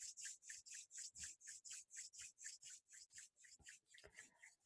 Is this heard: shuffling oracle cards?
no